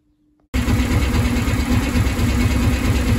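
A Suzuki VL 800 Volusia motorcycle with a loss of power at low revs idles close by, its steady, even engine rumble starting abruptly after a brief silence and running loud and unbroken.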